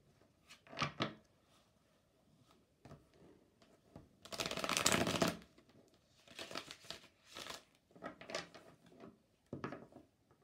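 Tarot cards drawn from a deck and laid down, a run of soft papery slides, flicks and taps with a longer shuffling burst in the middle, close and fairly quiet with no talk.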